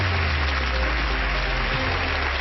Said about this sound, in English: Big round of applause for the pink team.